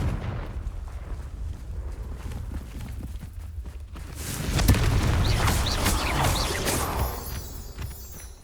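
A Confringo spell blast in Hogwarts Legacy erupts partway through, a loud booming burst with a crackling, fiery tail and bright sparkling chimes over steady low game ambience.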